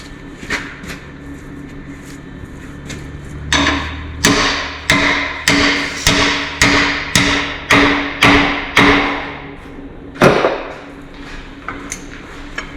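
Sharp metallic hammer blows ring out, first a few scattered strikes, then a steady run of about ten evenly spaced hits, and a final pair after a pause, all loud and close over a low background hum.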